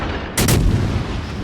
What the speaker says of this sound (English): But we're going to continue to fire the guns.